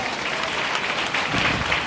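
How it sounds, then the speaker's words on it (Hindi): Loud applause from a church congregation during a Hindi sermon, a dense, continuous wash of clapping that fills the whole stretch without a break. "जोरदार ताली बजाते"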